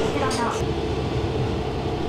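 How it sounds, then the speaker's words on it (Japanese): A KiHa 120 series diesel railcar, on a local service bound for Bingo-Ochiai, picks up speed with a loud, continuous engine drone and rail rumble, a voice speaking briefly over it. "そんなことを考える暇もなく列車は加速。"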